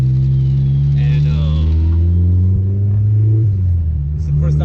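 A car with a K24 engine on its first drive with a base tune, rumbling loud and close as it pulls and revs, the engine note climbing steadily then dropping briefly as it shifts, while a voice talks over it.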